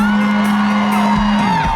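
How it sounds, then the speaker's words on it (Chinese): Concert crowd at an outdoor indigenous music festival giving loud whoops and screams, sustained and close, with a steady tonal hum running beneath the cheering. "好了，最后一个尖叫声再送给我吧。"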